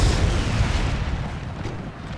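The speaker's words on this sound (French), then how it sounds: "Artillerie de 4 livres" A 4-pounder artillery piece fires in a Napoleonic battle game, a deep rumbling boom that rolls on and fades over about two seconds.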